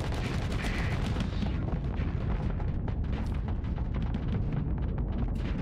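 Mortar fire from a ship in the space combat game Starsector: a dense, continuous roar of booming shots and explosions, loud and sustained throughout with no pause.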